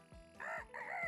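Cartoonish chicken clucking and crowing from the Frank's Farm online slot game, two short bird-like calls rising and falling in quick succession, fairly faint, with no talking.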